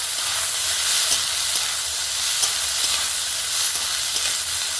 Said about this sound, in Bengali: এবারে সবজিগুলো কড়াইয়ে নিয়ে নেব।